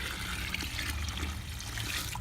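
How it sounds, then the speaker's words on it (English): Rainwater caught from a roof runoff is poured into a bucket, a steady, soft continuous splashing and trickling with no break, heard close and alone. "And so we just fill the bucket up"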